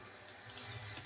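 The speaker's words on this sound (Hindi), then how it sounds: "अब मैं इसमें थोड़ा पानी ऐड करूँगी, जिससे हमारे आलू जो है वो गल जाएं" Water poured into a pot of aloo gosht, a potato and chicken curry cooking on the stove, giving a steady, soft, continuous splashing pour close by with no talking.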